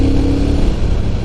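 A Triumph Thruxton motorcycle engine revs hard at close range during a ride in Japan, a loud, steady mid-range roar with no voices.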